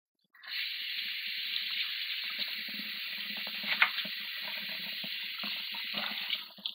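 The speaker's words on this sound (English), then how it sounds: "So I'm going to rinse them off real quick." Tap water runs in a steady hissing stream as rib eye steaks are rinsed beneath it, with soft irregular splashes as the meat is turned, close and without talk.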